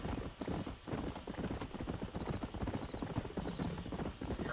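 A horse gallops in the Western video game Red Dead Redemption, its hooves beating a steady, rapid clip-clop rhythm at moderate loudness throughout.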